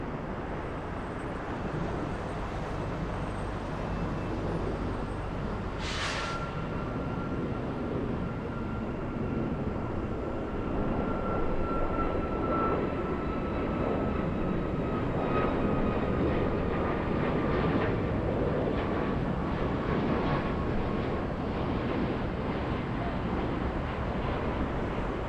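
A jet airliner rolls for takeoff on runway 8 right at Atlanta Hartsfield-Jackson airport, its engine roar steady and loud throughout with a rising whine, a brief sharp burst early on.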